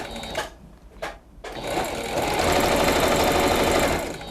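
A sewing machine stitching a curved seam on a cloud-shaped pillow, a couple of short bursts followed by a longer steady rapid mechanical whirr, close and loud.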